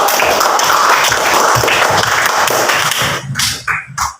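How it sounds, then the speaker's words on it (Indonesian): Classroom applause from students, a dense steady clapping wash that thins and breaks into a few scattered claps near the end. "Tepuk tangan dulu kita"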